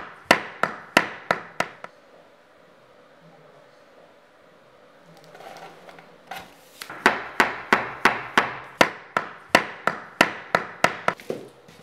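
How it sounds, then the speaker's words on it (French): Laminate flooring planks are knocked together with a hammer and a tapping block. Two bursts of sharp, evenly spaced wooden knocks sound close by, a handful at first, then a longer steady run after a quiet pause. "relie les deux en tapant avec un marteau et une cale à frapper."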